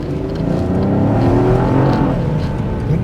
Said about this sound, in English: let's see the off-the-line acceleration with this Ecotec